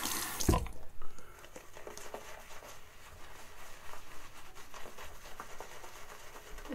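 Water runs steadily from a tap while face lather is worked up for a shave, a continuous close splashing hiss after a brief louder burst at the start.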